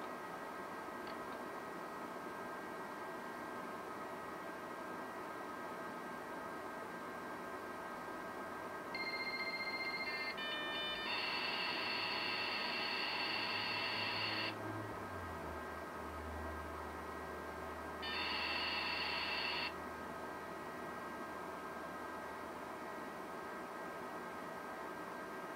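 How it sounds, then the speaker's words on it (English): A dial-up modem connecting to a home-built dial-up ISP sends out two short bursts of bright, steady handshake tones over a quiet background hum, without any speech. "For some reason, it doesn't actually give you all of the sounds of the modem."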